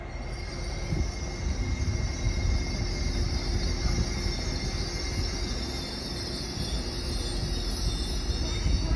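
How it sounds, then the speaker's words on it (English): A northbound LNER Azuma train passes at Doncaster heading for Wakefield and Leeds, a steady, fairly faint rumble of rolling wheels with a thin high whine above it. "have northbound LNER Azuma, which is going up the Leeds branch to Wakefield and Leeds."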